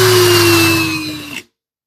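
A Parkside Performance 20-LI B2 cordless hammer drill spinning freely at a steady high whine with a constant motor tone, then cutting off abruptly and falling silent after about a second and a half.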